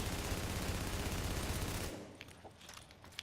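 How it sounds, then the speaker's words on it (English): An assault rifle in The Division fires a fast continuous burst for about two seconds, loud and close, then cuts off into quieter ambient clatter. "the rate of fire with an assault rifle can be really useful"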